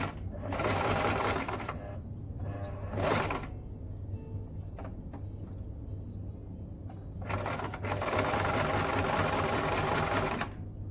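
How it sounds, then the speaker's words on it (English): A sewing machine back-stitching satin pants runs in steady buzzing bursts, with short starts and a long final run, over a low constant motor hum and no talking. "Start doing a back stitch to hold the piece in place."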